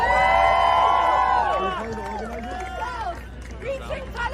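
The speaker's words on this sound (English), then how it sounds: "So they're cheering the rockets being fired at civilians." A crowd cheers and whoops over rocket fire from Gaza, the shouting voices loud and overlapping, with one rising call near the start that fades into scattered cries and a steady babble.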